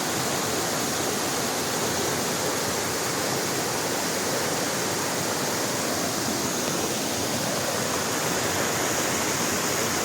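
Strong river water at Paglitaw resort in Tanay, Rizal rushes in a constant loud roar, a dense steady wash of flowing water with no voices over it.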